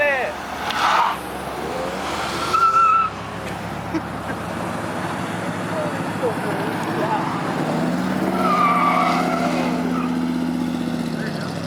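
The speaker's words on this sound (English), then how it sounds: "They did the burnout." A ProCharger-equipped Corvette does a burnout at an outdoor car show, its engine roaring loud and sustained amid crowd chatter and voices, the revving swelling again toward the end.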